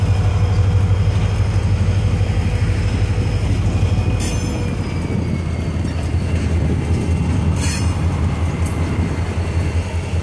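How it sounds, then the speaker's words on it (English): Freight train rolling past on railroad tracks in North Carolina, a loud continuous rumble of wagons and wheels with faint squeals and a couple of sharp metallic clanks, no talking. "They changed the track so he could go around the train."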